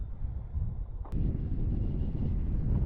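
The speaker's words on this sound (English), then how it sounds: "The wind was about 20 knots, gusting into the low to mid-20s, but the gusts weren't bad" Rushing wind buffets the microphone while kitefoiling at Hood River, Oregon, a loud, continuous gusting roar that grows stronger after a brief thump.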